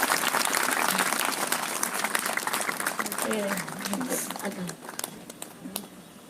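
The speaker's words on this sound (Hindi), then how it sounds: "उनके लिए तालियां बजाएंगे" Audience applause at a Brahma Kumaris gathering, a dense crowd clapping that stays strong for several seconds and then gradually thins, with some voices underneath.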